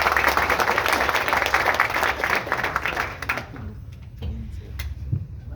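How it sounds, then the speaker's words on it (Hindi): A crowd applauds loudly and steadily for about three seconds, then the clapping thins out and fades into scattered claps and room noise. "एक बार आप सबकी जोरदार तालियां बजाएं।"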